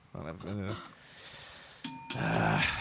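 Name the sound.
bell ringing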